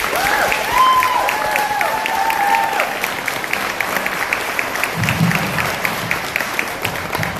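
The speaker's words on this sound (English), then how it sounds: "can we give a huge round of applause for Mrs. Anderson, Ms." A round of applause for teachers at a fifth-grade elementary school continuation ceremony: a sustained wash of many hands clapping, with a few voices calling out at the start, easing off slightly toward the end.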